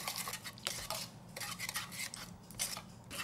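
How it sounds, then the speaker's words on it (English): A spoon stirring a vinegar and honey sauce in a bowl for a jellyfish salad: quick, close scraping and light clinking against the bowl in uneven bursts, with brief pauses between strokes. "Stir this until well melted."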